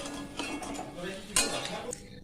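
A spoon scrapes and clinks in a pan as poppy seed paste thinned with a little water is stirred into okra, with a faint sizzle beneath and one sharper metallic knock near the end.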